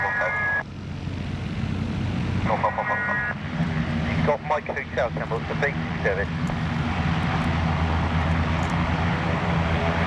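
A light aircraft engine drones steadily in flight, a continuous propeller hum under radio chatter and a voice talking.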